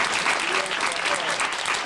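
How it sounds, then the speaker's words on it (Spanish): A theatre audience applauds at a 1987 year-end comedy show in Argentina, with dense, steady clapping filling the whole moment at close range. "ya están aplaudiendo"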